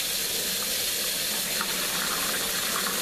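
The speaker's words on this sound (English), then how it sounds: "run some water over this" Tap water runs steadily over cooked ground beef in a kitchen, a constant, loud rushing splash heard alone without talk.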